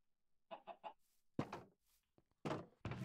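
Minecraft chickens cluck in a few short bursts, a quick triple cluck followed by louder clucks and a thunk, close and clear with no voices.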